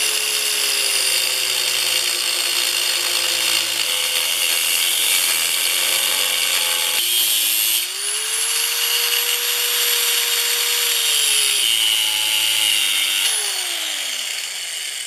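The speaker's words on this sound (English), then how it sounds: "what I like to do is I like to grind into the pipe where I cannot see my mark anymore" A handheld angle grinder with a cutoff wheel bites into steel pipe, giving a loud, continuous high-pitched whine and grinding screech that dips briefly midway, then rises again and tapers near the end.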